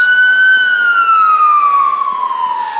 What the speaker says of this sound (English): I can't do nothing about the sound of the ambulance.